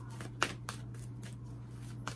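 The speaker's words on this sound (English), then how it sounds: "I really want you guys to just see a little bit in regards to the shuffling" Playing cards are shuffled close up in a few quick riffle bursts, sharp papery flutters spaced irregularly over a low steady hum.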